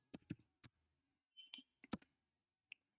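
A computer keyboard clicks in sparse, quiet keystrokes as a short ffmpeg command is typed, with a few separated taps and small bursts close by in a quiet room.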